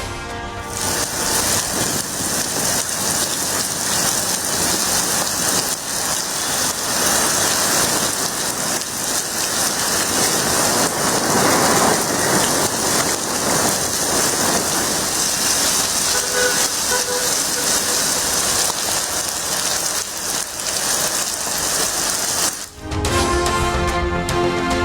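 Heavy overnight rain in Chennai pours down in a dense, constant hiss throughout, loud and unbroken, with a brief dip just before the end.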